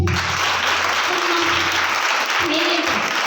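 A crowd at a children's VBS event at a prayer house claps in a dense, sustained burst of applause, loud and close, with a few voices underneath.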